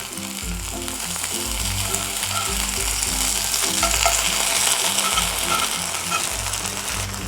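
Beetroot pieces frying in a pan that gets covered, with a continuous bright sizzle broken by regular scraping and knocking as the slices are turned one by one.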